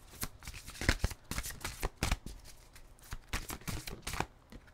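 A deck of oracle cards is shuffled by hand in a run of dense, rapid riffling and flicking bursts, fairly close and steady across the whole stretch, with no talking.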